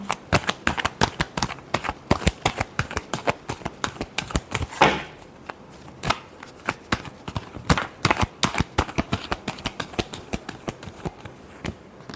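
Tarot cards are shuffled in quick, rhythmic bursts of crisp slaps and riffles, close and fairly loud, with a short pause midway before the steady patter resumes.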